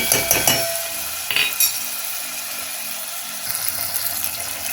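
Ingredients roast in a pan for a traditional Goan mung bean dish, with a few clinks of a utensil against the pan at first, then a soft, low sizzle running underneath.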